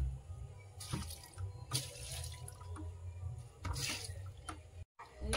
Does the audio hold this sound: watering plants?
yes